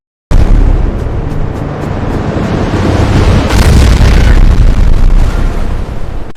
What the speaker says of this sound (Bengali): নীরব আকাশের বুকে ভেসে উঠছে বিস্ফোরণের শব্দ